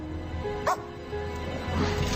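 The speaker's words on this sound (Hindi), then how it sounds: "इस कुत्ते में तो हिम्मत है।" A dog in the film Alita: Battle Angel gives a brief bark and soft whimpers at mid-distance against a steady background hum.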